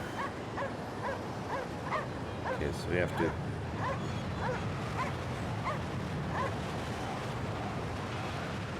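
A dog in a video game barks and whimpers in a steady run of short yips, fairly close, while a person talks over it.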